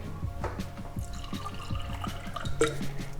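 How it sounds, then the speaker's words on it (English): Water is poured into a cup for a color-changing science experiment, giving short, close glugging and dripping sounds in a quick uneven rhythm with a brief brighter splash near the end. "To begin, fill up your cup with water."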